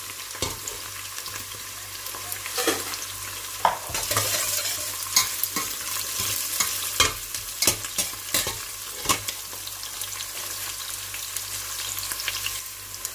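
Crushed garlic and onions fry in oil in a pot while a utensil stirs them, giving a steady close sizzle broken by frequent scraping and clinking strokes throughout, with no voices.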